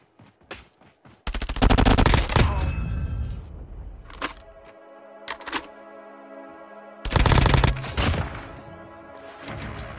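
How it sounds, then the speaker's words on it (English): The HVK-30 fully automatic assault rifle fires in COD Mobile, two loud rapid bursts with a ringing tail and scattered single shots between, game effects in the background. "we have the HVK-30, which is a fully automatic assault rifle with high rate of fire"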